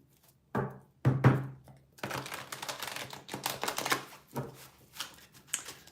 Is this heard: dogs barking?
no